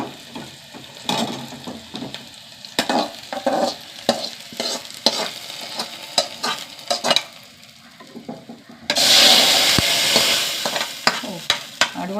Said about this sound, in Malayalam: കുറച്ച് കറിവേപ്പില, നന്നായി മൂത്ത് വരട്ടെ.